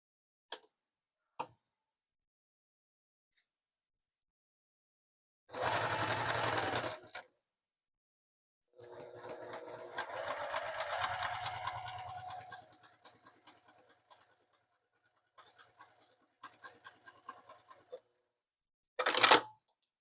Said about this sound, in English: sew 1/4 inch seam down the side